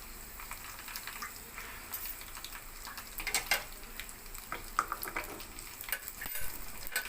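Dried red chillies and crushed garlic frying in a pan for gongura chutney, a quiet, crackly sizzle with scattered sharp pops and spits that grow busier toward the end.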